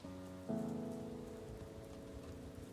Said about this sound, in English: As goofy as the sound, acid rain does in fact provide moisture.